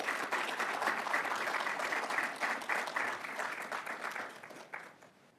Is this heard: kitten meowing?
no